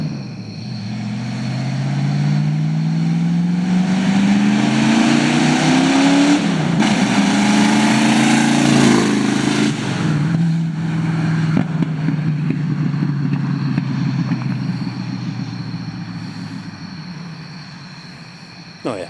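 A Ford Mustang running open headers revs hard, its loud, raw exhaust climbing in pitch through several throttle pulls before easing back down to a rumbling settle, close to the listener for nearly twenty seconds.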